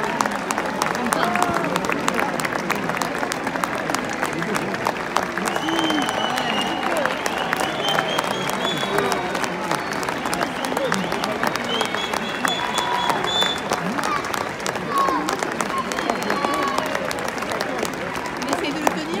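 Sustained applause from a crowd, steady clapping with a murmur of voices and some cheering mixed in.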